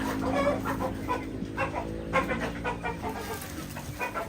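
Chickens cluck and chatter on a poultry farm, a busy flock heard close with overlapping calls and a steady background hum.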